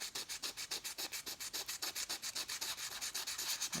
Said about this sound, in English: start to sand this blue off. Just go back and forth